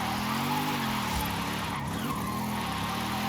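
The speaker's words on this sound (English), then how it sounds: "This is supposed to be a big burbly V8." A Mercedes-AMG wagon with a V8 engine in the Forza Horizon 5 racing game drones loudly and steadily, its engine note wavering in pitch while tires skid and squeal continuously throughout; no voices.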